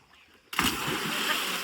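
Sudden plunge and sustained splashing as people jump into a village canal to bathe during Holi (Dhuleti) celebrations, a loud close splash followed by continuous churning water.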